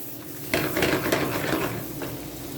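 Garlic heats in melted butter in a pan, giving a steady close sizzle with spoon scraping and stirring clatter throughout.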